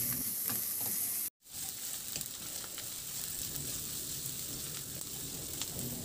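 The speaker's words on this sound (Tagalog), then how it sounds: "Maglagay na rin ako ng bawang. Igisa na lang na mabuti hanggang sa maglabas lang ng aroma." Garlic sautéing in a pan for an okra dish, a bright continuous sizzle with light crackles and occasional stirring scrapes, close and steady after a brief cut to silence.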